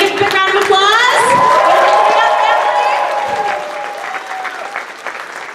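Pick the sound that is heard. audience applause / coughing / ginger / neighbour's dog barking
audience applause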